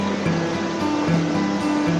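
Steady rushing water of Oil Camp Creek fills the clip, a continuous broadband wash with a low engine-like hum running beneath it.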